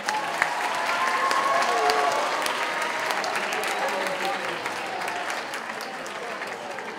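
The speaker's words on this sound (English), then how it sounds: "Can I get a big round of applause for your judges today?" Sustained applause from an audience at a school talent show, honouring the judges; steady, dense clapping with crowd noise fills the whole stretch, swelling early then easing slightly, with faint voices mixed in.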